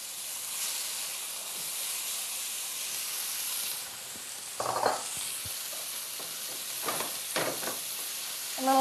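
Garlic, ginger and tomatoes sizzling in a hot pan, a quiet steady hiss with brief bursts of crackle and stirring clatter.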